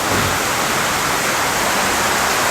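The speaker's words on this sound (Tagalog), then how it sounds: "Pumasok na yung tubig." Extra virgin olive oil sizzles loudly in a pan, a bright steady crackling hiss that swells as something is added, with no talking.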